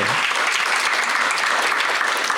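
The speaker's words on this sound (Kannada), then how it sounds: "ದೊಡ್ಡ ಚಪ್ಪಾಳೆ ಬರಬೇಕು" Continuous dense applause from an audience at an inauguration and award ceremony, loud and even, filling the whole moment without pause.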